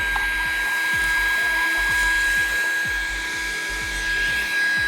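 A Rlaarlo AK-917 RC car's electric motor gives a steady, high-pitched whir that runs continuously and grows louder as it warms, with a constant tonal whine and rhythmic low pulses underneath.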